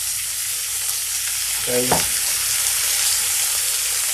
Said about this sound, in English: That's going to create some nice sizzle down there